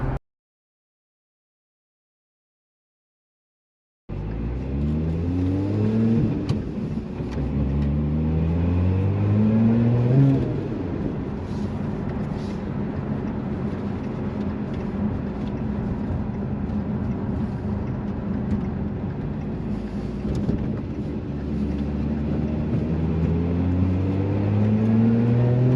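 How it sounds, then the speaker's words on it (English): After a few seconds of silence, a Lotus Emira sports car engine drones and revs through repeated gear changes, pitch climbing and dropping under steady road noise. "So this is what driving a Lotus is all about."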